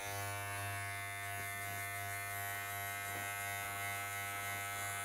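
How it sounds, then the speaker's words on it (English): An electric hair clipper buzzes steadily while fading a haircut, a close, constant mechanical hum with a strong low tone and rich overtones, unbroken and without talk. "I'm gonna close the clipper one more time and go below that."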